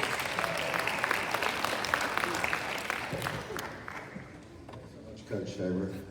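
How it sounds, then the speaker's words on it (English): An audience applauds a group of Olympians at a university event, a dense, steady patter of many hands clapping that thins out toward the end, with voices mixing in underneath. "let's give these Olympians one last round of applause"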